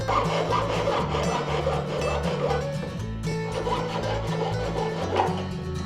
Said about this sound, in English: We're going to go ahead and start our sawing now.